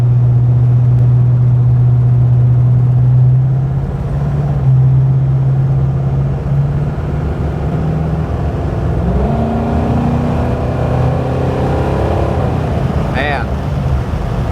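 A 1965 Buick Riviera Gran Sport engine pulls hard as the car gains speed, a loud steady drone climbing in pitch through several gear changes, with a voice talking over it.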